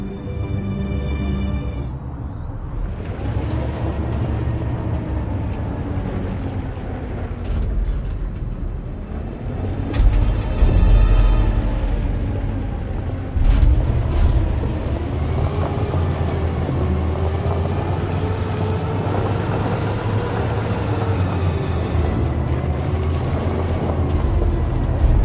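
Truck driving in the video game Detroit: Become Human, a steady low engine rumble with air-brake-like hisses and shifting tones, loud and continuous throughout with no talking.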